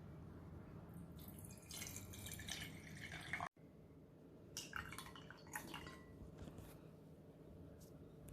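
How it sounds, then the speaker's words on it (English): Water is poured into a glass jar, a soft splashing trickle that briefly cuts out and then resumes with scattered drips and sloshes. "First put water into a jar."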